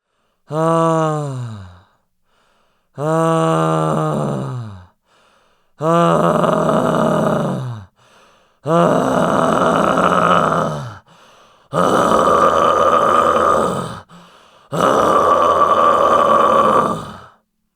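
Six long vocal exhalations in a row, starting as breathy sighs and growing into harsh, gritty screams, separated by short pauses.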